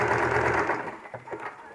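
Sewing machine stitching fabric pieces for a patchwork quilt, a steady close mechanical whir that winds down and ends in a few uneven stitches.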